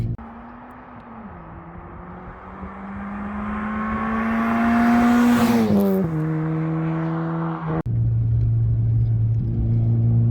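An engine-swapped Ford car's engine revs and accelerates steadily, pitch climbing over several seconds, briefly dropping as it shifts gear, then droning on loudly up close.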